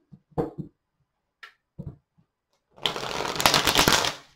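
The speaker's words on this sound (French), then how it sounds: "Je peux avoir le temps de brasser les cartes" A deck of tarot cards being shuffled, a few soft taps and handling sounds followed by a close, dense riffling shuffle lasting over a second, with no speech.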